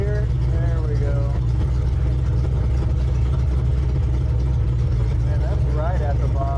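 A Ford Ranger with a swapped-in 302 engine runs in first gear with a low, steady, close rumble, while voices talk over it.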